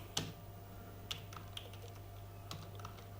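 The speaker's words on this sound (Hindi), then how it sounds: "और मैंने यहाँ पर टाइप कर दिया" Sparse keystrokes on a computer keyboard while month names are typed into an Excel sheet: a few separate clicks spaced over about three seconds, soft and close, over a steady low hum, with no voices.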